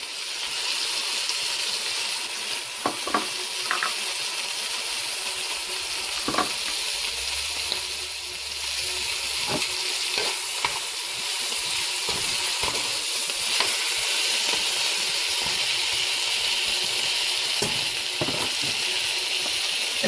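Garlic fries in a pan for a Tunisian margaz sauce, giving a steady, bright sizzle that runs throughout, with occasional soft stirring clicks and no voices.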